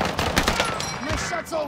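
Rapid gunfire from a Kar98 rifle in a video game with a glitched attachment, several quick cracking shots in the first second, mixed with faint game sounds and a brief voice.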